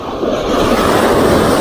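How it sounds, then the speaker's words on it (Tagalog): Big ocean waves break at the shore during a shore-casting fishing trip, giving a loud, steady broadband roar of surf that swells slightly and continues without pause, with no talking. "Sobra lalaki ng alon, guys."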